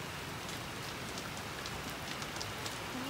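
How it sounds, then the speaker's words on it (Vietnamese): Heavy rain pours steadily onto surfaces along a rural road under construction in Lai Vung, Dong Thap, Vietnam, a dense, even hiss of drops with scattered louder patters and no voices. "Mưa lớn rồi."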